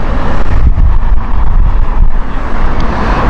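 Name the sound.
wind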